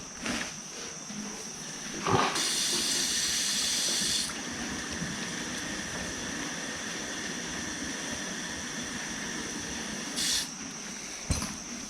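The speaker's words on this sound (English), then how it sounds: "I just put some water in this container here." Water poured into a container during barn chores, a loud rushing hiss that runs for a couple of seconds, then a softer steady trickle, followed by another short splash burst and a thump near the end.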